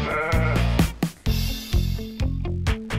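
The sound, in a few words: goats bleating in a goat pen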